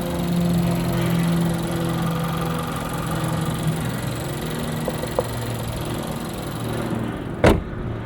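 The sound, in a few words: Nissan Altima 2.0 liter VC-Turbo engine running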